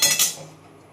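Popcorn kernels poured into a metal pan give a quick bright rattling clatter that fades within a moment, close and fairly loud.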